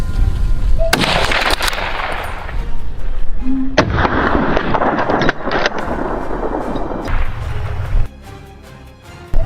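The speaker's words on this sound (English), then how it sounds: "I held my breath, lined up the perfect shot, and dropped it with a single bullet." A rifle shot fired at a wild boar during a hunt, booming blasts with long rolling echoes outdoors.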